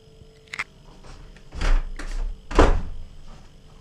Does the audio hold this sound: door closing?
yes